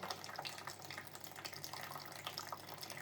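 Tap water running steadily into a budgie's small bath tub, a continuous bright hiss and splatter with no break, fairly quiet and close.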